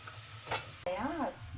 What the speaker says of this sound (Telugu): బీరకాయ వేసేసుకుందాము